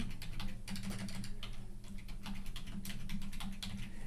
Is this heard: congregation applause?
no